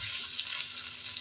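Garlic and ginger sautéing in a pan with the flame turned down because the oil is spattering, giving a dense, steady crackling hiss that fills the whole stretch without pause.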